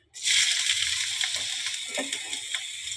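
Onions dropped into hot oil hit with a sudden loud sizzle that then settles into a steady crackling fry, close and continuous.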